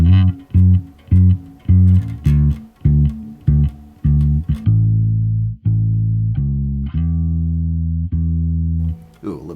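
A bass guitar plays a riff from the middle section of a song: a quick run of short, punchy plucked notes gives way to longer sustained low notes, clear and up close.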